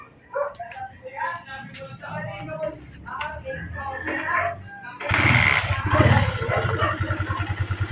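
A Honda TMX 155 motorcycle engine runs noisily with a rough, clattering idle, entering loudly partway through after people talk close by over earlier background noise.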